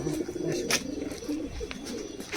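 Pigeons coo close by in low, throaty, repeated calls, several birds overlapping over a steady background hum.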